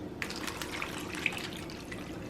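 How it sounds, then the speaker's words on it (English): Water splashes and trickles steadily into a pan, with a few brighter drips and plinks over the continuous pour. "We're going to add water to this."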